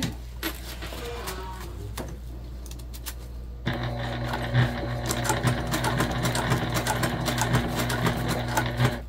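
A sewing machine topstitching close to the edge of thick fabric, first slow and hesitant, then running in a steady, loud mechanical whir with a rapid needle rhythm, close up and without talk.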